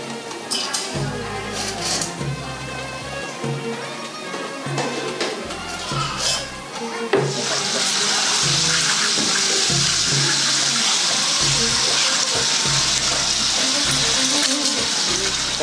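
Boiled water with potash poured out during gold and silver jewelry plating, a steady loud splashing rush that starts about halfway through and continues to the end, after earlier clattering and handling noises.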